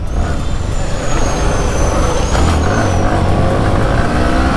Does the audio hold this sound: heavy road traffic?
yes